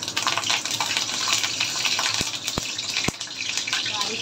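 Curry leaves dropped into well-heated oil in a pan give a continuous close crackling sizzle, punctuated by a few sharp pops and clicks.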